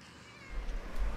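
Cat meowing in the point-and-click video game Randal's Monday, a single short meow heard alone, fairly close and clear, with no talking.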